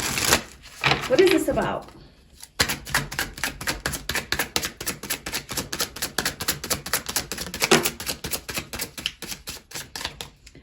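Tarot cards being shuffled by hand in a pick-a-card reading, a rapid riffling, flicking patter that runs steadily after a brief pause, with a voice speaking over the start.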